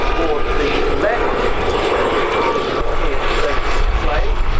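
At the Abingdon Air and Country Show, a helicopter flies away with a steady aircraft engine drone under continuous commentary from a man.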